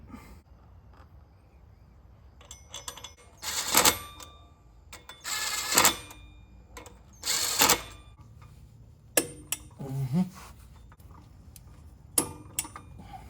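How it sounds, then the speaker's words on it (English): Ratchet clicking in several bursts while torquing flywheel bolts on a BMW E46 during a clutch and rear main seal job, with the crank held so the engine won't turn; close, sharp clicks separated by quiet gaps. "That way I can torque the flywheel bolts without the motor spinning"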